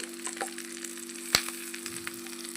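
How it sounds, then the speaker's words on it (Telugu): Boiled, mashed potatoes sizzle softly in a hot pan for a Telangana-style aloo curry, a faint crackle with one sharp clink partway through. "మ్యాష్ చేసి పెట్టుకున్న ఈ ఆలును కూడా ఇందులోనే వేసేసుకోవాలి"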